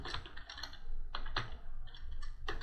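Typing on a computer keyboard: quiet, irregular bursts of key clicks, some clustered and some spaced apart, close and alone with no voices.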